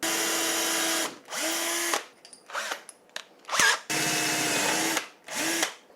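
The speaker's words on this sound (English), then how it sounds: "And I guess let's drill it." A power drill bores a hole in a part for a vintage Yamaha Enduro DT175 trail bike build, propped on boards, whining in several loud bursts separated by short pauses and clicks.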